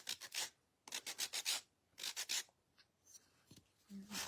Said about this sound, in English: Do a little gentle sanding here.